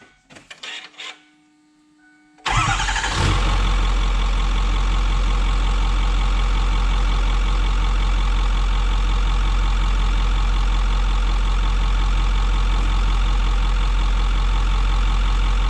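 A car engine cranks and catches after an oil change, a short starter grind followed by a loud, steady idle that continues evenly for the rest of the clip, close to the engine.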